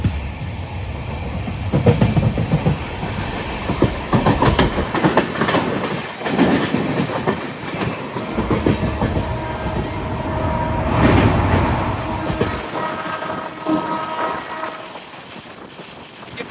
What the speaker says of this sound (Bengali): আমাদের ট্রেন ঢুকে গেল মেন লাইন